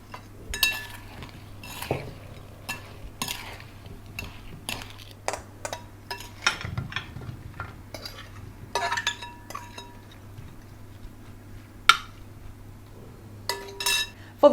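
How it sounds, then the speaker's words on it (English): A spoon stirs strawberries and lemon juice in a bowl, giving irregular clinks and scrapes against the dish over a low steady hum, with no talk. "We want to give that a really good stir"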